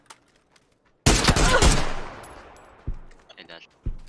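A loud, close burst of automatic gunfire in PUBG, a rapid run of shots lasting about a second, then a ringing decay and a few separate single shots afterward.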